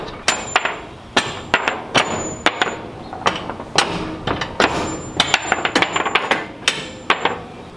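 Sharp metallic hammer blows knock bolts up through composite trailer decking, coming in irregular bursts of two or three strikes with short pauses, close and loud throughout.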